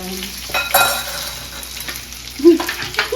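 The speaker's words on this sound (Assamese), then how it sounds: "এতিয়া মই চাউলখিনি অকণমান ঘিউতে ভাজি ল'ম" Soaked rice fries in a little ghee, a gentle sizzle broken by intermittent stirring scrapes and a couple of louder knocks of the spoon against the pan.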